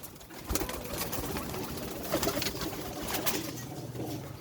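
Pet pigeons coo softly at close range, with repeated low throaty calls and occasional wing flutters and taps scattered over a quiet room background.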